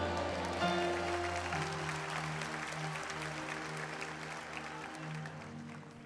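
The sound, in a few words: applause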